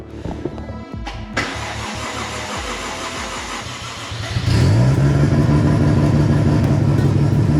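A Toyota Mark II with a swapped-in 1JZ engine cranks in several short bursts, then catches and fires into a loud, steady idle that stays close and fills the rest.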